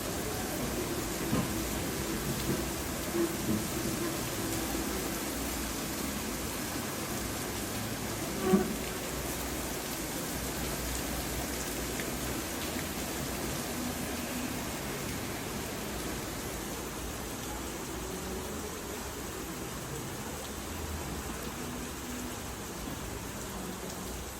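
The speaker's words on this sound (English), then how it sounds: "the rain beating against the rooftop of the nook" Steady rain beats on the roof of a covered nook in the open-air Central Park area of the cruise ship Symphony of the Seas. It makes a continuous, even hiss throughout, with a few faint isolated taps.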